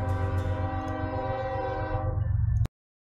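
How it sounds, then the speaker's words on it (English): A loud train rolls by close up with a sustained horn blast held over the rumble of the cars, then cuts off abruptly. "Sorry, the trains just sneak up on me sometimes and I don't catch them in time."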